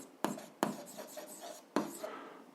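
Writing out an algebra solution to a modulus equation, with a handful of sharp, scratchy strokes in quick bursts and softer scribbling between them, close and fairly quiet.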